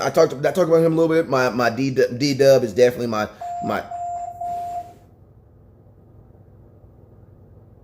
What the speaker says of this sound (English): All right, that was my alarm system.